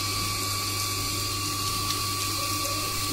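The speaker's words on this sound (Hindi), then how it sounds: "कुकु पानी दे रही है पौधों में।" Water runs from a hose pipe onto garden plants, a steady, continuous hiss and rush with a faint pump-like hum beneath, close and unbroken with no talk.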